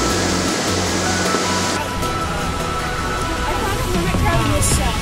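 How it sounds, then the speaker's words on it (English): Ocean waves roll in on the Prairie Creek Redwoods coast, a steady loud wash of surf with a rumbling low end, close and continuous. "The waves are coming in."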